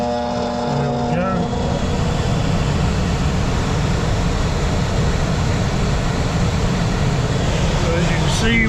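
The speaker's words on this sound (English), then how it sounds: "we got our heat strips and our blower motor running" An HVAC unit runs with its electric heat strips and blower motor on. A loud, steady broadband whoosh of moving air and motor drone lasts throughout, with a faint whine near the start.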